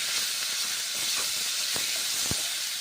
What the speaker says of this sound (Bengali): কড়াইয়ের মধ্যে এখন তেল দিয়ে গরম তেলে কষে নিচ্ছি